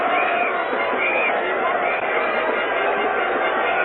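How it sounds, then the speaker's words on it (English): A dense crowd roars and surges onto the pitch at Lord's after the 1975 cricket World Cup final between West Indies and Australia. The sound is a continuous, loud, muffled wash of cheering and babble heard on an old broadcast recording. "the crowd gathering in there now, mobbing over the pitch"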